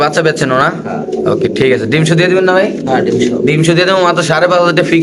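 Black Lahori pigeons coo in soft, repeated throaty rolls close by, mixed with people talking throughout.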